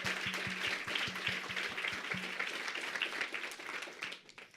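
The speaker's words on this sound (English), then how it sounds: "Can we please have another big round of applause for tonight's judges?" Audience applause for the judges at the Women Startup Challenge New York City event, a steady round of crowd clapping with a few close, sharp claps at first, tapering off at the end.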